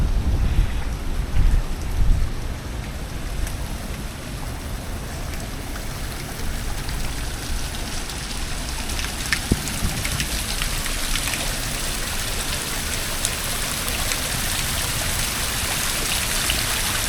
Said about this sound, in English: there's nice waterfalls down here